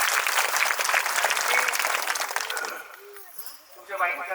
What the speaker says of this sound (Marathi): अतिशय जोरदार टाळ्या वाजवा